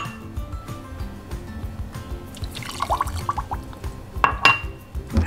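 Water poured from a cup onto sugar for a syrup, a short trickle with clinks of glass and pot and a few drips, close and fairly loud, no talking.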